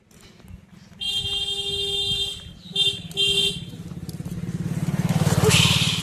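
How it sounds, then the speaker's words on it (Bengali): A motorcycle approaches and passes beside a dirty canal, its engine note rising to a loud near rumble toward the end, while a steady high electronic tone and a few short beeps sound over it. "ওই দেখো বাইক যাচ্ছে"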